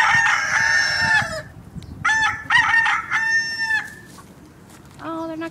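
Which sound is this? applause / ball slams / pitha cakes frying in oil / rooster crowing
rooster crowing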